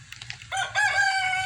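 A rooster crows once at close range, a loud drawn-out call following a few faint clucks, heard alone without talk.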